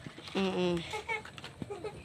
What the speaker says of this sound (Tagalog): So, nakita nyo guys, may kambing kami dito.